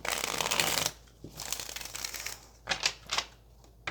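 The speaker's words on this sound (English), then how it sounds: "Let's just get a couple of more shuffles for Scorpio." Tarot cards riffle and slap through several quick shuffles, a dense papery burst up front followed by lighter shuffles and crisp snaps, close to the mic with no talking.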